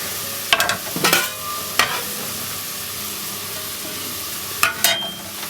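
Carrots for a thick vegetable soup drop into a cooking pot with several sharp clattering bursts over a steady low sizzle of onions, then the steady sizzle carries on alone.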